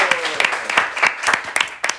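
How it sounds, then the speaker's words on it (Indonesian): Audience applause in a university talk-show setting with the student executive board heads of an economics faculty, brief irregular claps forming a scattered burst that fades out. "Tepuk tangan dulu."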